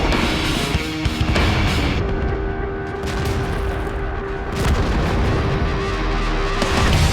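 Tank cannon fire and explosions in the World of Tanks video game, heavy booming blasts and rumbling battle noise over a continuous engine drone, loud and close throughout.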